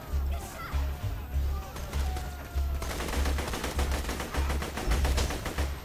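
Rapid automatic gunfire from a weapon in Borderlands 2, loud and sustained in rhythmic bursts across the clip, with talk over it.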